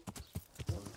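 A horse's hooves clip-clop over a town's muddy ground in Kingdom Come Deliverance, a few close, uneven thuds in one short burst.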